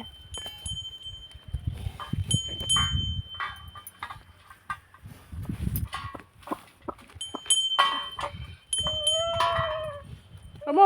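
Lambs and other livestock on a home farm bleat repeatedly at close range, short wavering cries coming in bursts over rustling and movement, with no one talking.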